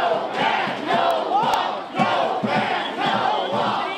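A large protest crowd outside the Detroit airport chants in loud, rhythmic bursts, many voices shouting together in repeated waves with short gaps between.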